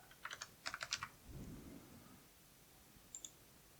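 A short burst of keystrokes on a computer keyboard while a password is entered during a Windows 11 Pro setup, with about a dozen crisp clicks in quick clusters, a low rumble in the middle and two more taps near the end.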